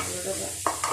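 Bitter gourd frying in a pan, a loud close sizzle with stirring scrapes and a sharper burst of spitting oil near the end.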